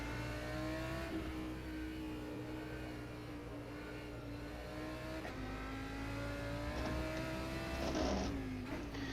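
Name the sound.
Audi GT3 race car engine in the game rFactor 2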